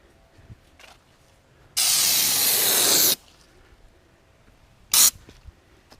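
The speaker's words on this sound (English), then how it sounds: "gun with the snorkel on the can and spray some more behind these flares" A Fluid Film aerosol can with a snorkel-tipped spray gun sprays undercoating behind the flares of a Ram truck: one sustained loud hiss for about a second and a half, then a short second burst after a quiet pause.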